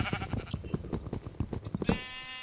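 In Minecraft, a string of quick, soft rhythmic thumps runs for a couple of seconds before a single nasal sheep bleat rings out near the end, fairly quiet and with no talking.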